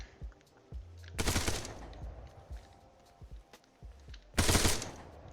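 Gunfire in the military video game Arma 3: two loud bursts of rapid automatic fire a few seconds apart, with scattered fainter single shots and faint background activity between them.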